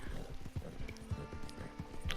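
A ridden horse's hooves clip-clop in a brisk, even rhythm on the way to Fort Mercer in Red Dead Online. The hoofbeats are close and clear, with a brief whinny among them.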